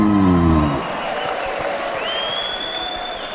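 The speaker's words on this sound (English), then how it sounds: "let's have a warm round of applause for Jackie Zhu." A crowd at a fight night claps and cheers after a brief burst of voice, steady applause filling the space with a few whoops rising above it.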